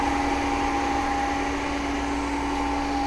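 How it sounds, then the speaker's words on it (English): Motor spinning an alternator at synchronous speed during an open- and short-circuit test, a steady loud mechanical hum with a constant electrical whine, unchanging throughout and with no talk. "this alternator you have to rotate at synchronous speed"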